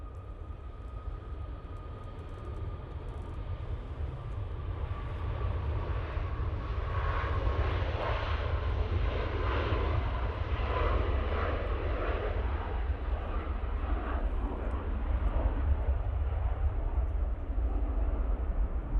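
A TUI airliner departs Manchester Airport for Marrakesh, the jet roar swelling from moderate to loud and holding as it climbs away, heard alone.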